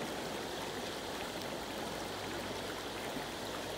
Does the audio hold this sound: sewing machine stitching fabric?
no